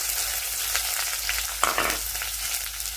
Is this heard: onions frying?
yes